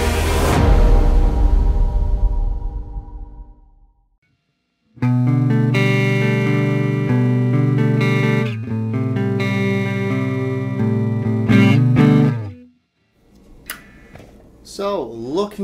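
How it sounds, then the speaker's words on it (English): An electric guitar plays ringing chords and single notes in a clean tone, stopping briefly between phrases, close and fairly loud. "what you just heard there was my clean tone"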